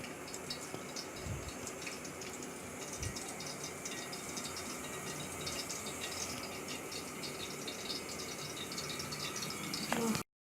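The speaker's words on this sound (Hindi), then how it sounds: "घी हमारा फुल गर्म हो गया है और इसमें मैं अरवी डाल दूँगी और इसे हाई फ्लेम पे हम फ्राई करेंगे" Taro root (arbi) sizzling in hot ghee on a high flame, a steady dense crackle and spatter that continues without a break at close range, with no talking over it.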